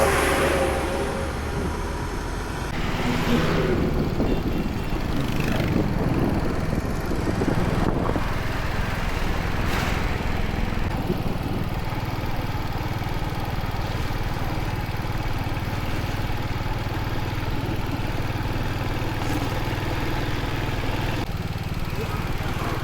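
Vehicles sit idling in a traffic jam on a mountain road past Srinagar in Uttarakhand. Nearby engines give a steady low rumble throughout, with occasional revving and passing noise.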